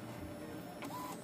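An Epson L3210 ink printer runs with a steady mechanical hum, briefly joined by a rising whir and a short tonal whine near the end, heard up close with no talk.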